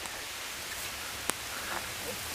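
Rain falling steadily outdoors during a barbecue, a constant faint hiss of drops with one sharp tap partway through.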